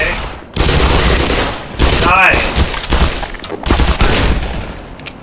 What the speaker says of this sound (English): Now, I'm gonna throw a grenade down here.